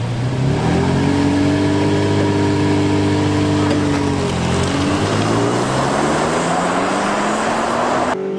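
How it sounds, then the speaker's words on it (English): A 2019 Ford Ranger with a turbocharged four-cylinder pulling hard from a standing start, its engine note rising steadily through the revs and then dropping at a shift before climbing again, loud and close with no speech. "Wow, the Ranger just takes off."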